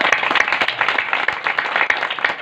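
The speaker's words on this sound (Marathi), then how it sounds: "एकदा टाळ्या वाजवा." Brief, lively audience clapping at a Marathi kirtan devotional gathering, dense rapid hand claps close by with no talking over them.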